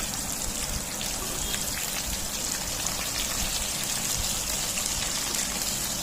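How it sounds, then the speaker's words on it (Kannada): Onions hit hot oil with green chilies and curry leaves for girmit, giving a dense, even sizzle that crackles close and steady throughout with no voices. "ಮೆಣಸಿನ್ಕಾಯಿ, ಕರಿಬೇವೆಲ್ಲ ಫ್ರೈ ಆದಮೇಲೆ ನಾನಿಲ್ಲಿ ಈರುಳ್ಳಿನ ಸೇರಿಸ್ತಾ ಇದ್ದೀನಿ"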